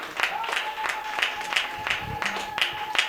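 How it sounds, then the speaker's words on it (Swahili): Church congregation clapping together in a quick, regular beat of sharp claps, several per second, with voices faintly underneath. "Situmpigie Yesu tena makofi"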